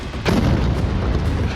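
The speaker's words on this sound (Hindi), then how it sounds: "इजराइल भी भड़क गया और लेबनान पर भीषण एयर स्ट्राइक कर करारा जवाब दे" A single heavy boom from an Israeli airstrike on Lebanon hits sharply, then rumbles on as a loud, sustained low roar.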